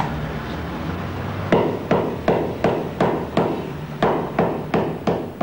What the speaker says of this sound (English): Hammering the ball rounds the joints and sets the stitches.